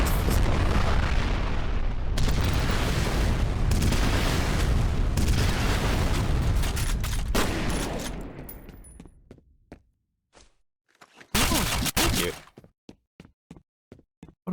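Rocket launcher blasts in the shooter F.E.A.R.: heavy, loud explosive booms rumble continuously for several seconds, fade out, then one more burst is followed by scattered sharp knocks and pops.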